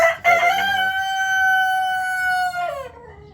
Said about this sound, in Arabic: وهذه الدجاجة زي ما انتم شايفين يا اخوان